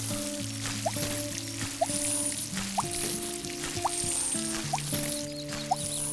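Plants being watered in a garden simulator video game: soft liquid drips and splashes recur roughly once a second, layered over a bright, steady synthesized game music track.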